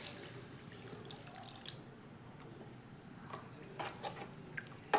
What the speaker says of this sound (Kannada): ಇವಾಗ ನೀರು ಹಾಕೋತಾ ಇದ್ದೀನಿ, 1 ಲೋಟದಷ್ಟು.